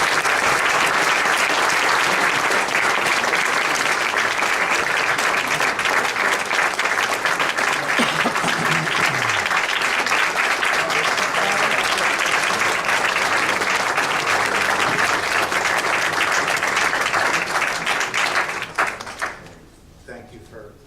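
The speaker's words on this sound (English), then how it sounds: "let's give him a round of applause" A council meeting audience in Belmar Borough gives Fred Fox a loud, dense round of clapping that holds steady for nearly twenty seconds, then quickly dies away.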